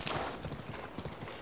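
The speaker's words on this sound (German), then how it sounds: "Jetzt folgt das Pferd wieder schön automatisch." Horse hooves clip-clopping on a road in Zelda: Breath of the Wild, the horse following automatically; a quiet, fairly regular series of hoof beats with faint background sound and no speech.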